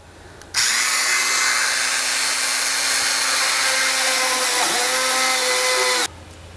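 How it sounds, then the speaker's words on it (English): A small high-speed Dremel rotary tool whines steadily while drilling for about five seconds, close and loud, with a brief dip in pitch near the end before it cuts off. "So let's get this drilled out."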